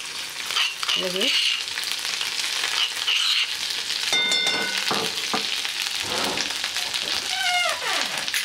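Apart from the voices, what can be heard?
ground spice paste sizzling in hot oil in a wok for misal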